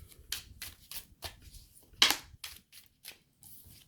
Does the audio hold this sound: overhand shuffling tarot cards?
yes